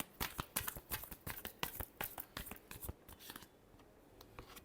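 Tarot cards are shuffled in a quick run of crisp riffling flicks and taps, fairly faint and close, tapering off toward the end.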